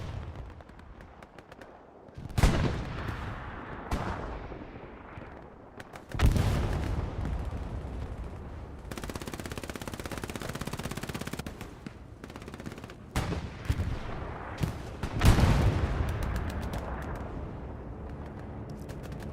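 Bombing run and gunfire in the Hell Let Loose video game, a dense battle of rattling machine-gun bursts, heavy booming explosions and sustained roaring barrages that rise and fall over about twenty seconds, loud and close.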